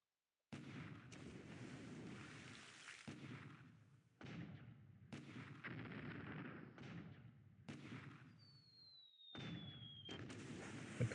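Booming naval gunfire from 75mm guns in a World War II war game on the 1942 Wirraway versus Heclapar action, a series of heavy separate blasts each with a rumbling tail, plus a brief whistling shell, with no talking.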